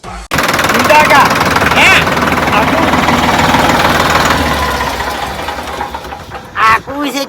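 Tractor engine running loudly and steadily with a rough, knocking idle through most of the stretch, fading slightly toward the end, with brief voices at the edges.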